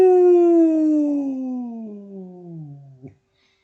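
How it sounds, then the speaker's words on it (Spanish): An owl sound effect on a quiet night: a single long, loud call with a strong harmonic tone that glides steadily downward for about three seconds and then cuts off abruptly. No one talks over it. "Solo un búho aullaba."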